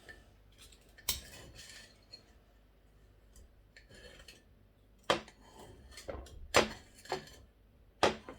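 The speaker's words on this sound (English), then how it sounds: "Just cut a little piece off here." Knife slicing a small piece of home-cured, dry-cured smoked back bacon, with sharp clinks and scrapes of the blade against the plate at irregular intervals, loudest near the end, and no talking.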